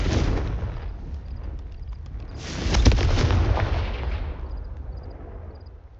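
Confringo and Incendio fire-spell blasts cast in the video game Hogwarts Legacy give a rumbling, explosive roar that swells into a loud burst near the middle, then trails off into lower rumbling.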